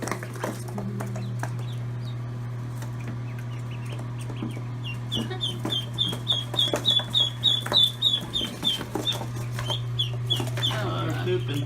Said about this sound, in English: Ducks are going for a swim.